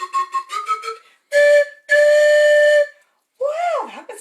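A person's voice imitates a train whistle: a few short hooting notes, two long steady blasts, then a swooping, wavering whistle, loud and close.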